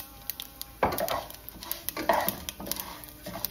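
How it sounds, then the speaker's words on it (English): Tamarind and sesame seeds tipped into a frying pan on the stove, making two short scattering clatters against the pan over a faint, quiet background. "Now I'm adding the tamarind and the sesame seeds."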